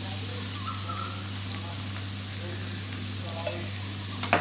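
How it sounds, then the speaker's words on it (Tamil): Paneer frying with coriander powder, turmeric and garam masala in a pan, a steady close sizzle with a low hum underneath and a few soft scraping clicks as the pieces are mixed. "இதையும் போட்டு இதை நல்லா மிக்ஸ் பண்ணிக்கலாம்"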